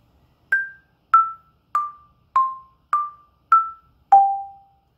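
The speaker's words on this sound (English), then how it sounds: "Before we pick up our mallets, I want to play the melody for you." Seven clear struck notes on an Orff xylophone ring out one at a time at an even pace, each decaying quickly, with the last note lower and left to ring longest; no voices.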